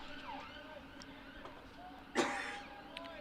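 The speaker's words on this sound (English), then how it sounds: "many of them have to part as an ambulance tries to force its way through, heading away from us down the Loughborough Road" An ambulance siren wails from the road outside a cricket ground as the vehicle forces through building traffic, distant and wavering, with a brief louder burst midway.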